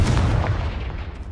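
A Confringo blasting spell goes off in Hogwarts Legacy as a single loud, close explosive burst with a heavy low boom that rumbles and decays over about a second.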